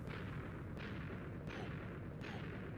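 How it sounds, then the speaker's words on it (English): Repeated blasts tearing through stone in Minecraft, a dense roaring rumble that swells with several sharp onsets in quick succession, loud and close with no talk. "Explosions."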